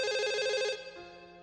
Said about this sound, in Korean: 프론트에 있는 전화벨 소리가 울렸고